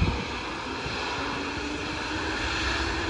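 An airliner takes off at Phuket airport, its jet engines producing a broad, steady roar that holds loud and constant throughout, with no talk.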